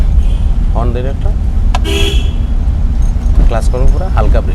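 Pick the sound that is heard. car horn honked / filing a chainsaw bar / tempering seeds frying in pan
car horn honked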